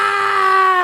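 A person's voice imitates a woman screaming: one loud, sustained, high-pitched shriek held steadily for under a second, heard alone.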